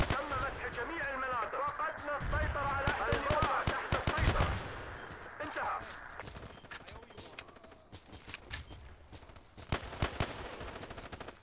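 Bursts of rapid automatic gunfire in a Battlefield match on the Karkand map, dense volleys early on that thin into scattered shots, with someone talking over the first seconds.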